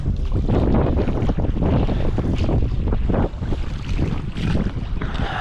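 Strong wind buffets the microphone out on open water during a duck hunt with decoys, a loud, steady roaring rush with gusty swells and faint water wash, with no voices.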